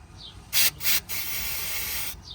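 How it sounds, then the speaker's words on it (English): Penetrating oil sprayed from an aerosol can onto the rear brake caliper of a VW Passat B6: two short loud hissing bursts followed by a longer, steadier spray, close up with no talking. "I will put some of this penetrating oil, so it makes things turn a little bit easier."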